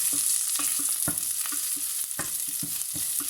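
Onions sauté in a pan for a Jaffna-style brinjal curry, a bright continuous sizzle under a quick, regular run of spatula knocks and scrapes, close and loud with no voices.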